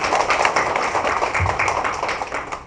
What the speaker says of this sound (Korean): 네, 뜻을 같이 하는 의미로 큰 박수 부탁드리겠습니다.